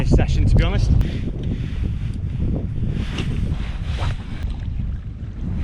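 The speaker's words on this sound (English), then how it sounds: "You can probably see I'm fighting this wind." Strong wind batters a kayak during a bass fishing session, rumbling and buffeting continuously and loud at close range. Water sloshes and a few small knocks are mixed in, with no talk.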